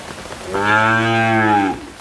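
A roughly 13-month-old heifer on a dairy farm gives one loud, close, sustained moo lasting just over a second, with faint rain barely noticeable in the background.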